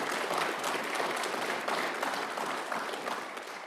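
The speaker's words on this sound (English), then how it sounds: "Let me give them a big round of applause" An audience at a fire and rescue recruit school graduation applauds, a fairly quiet, continuous wash of many clapping hands lasting a few seconds with no pause.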